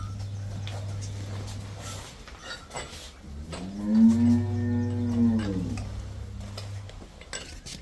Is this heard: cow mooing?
yes